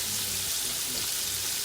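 Liver and onions sizzle in a pan with a dense, steady hiss, loud and close, filling the whole short moment without any voice.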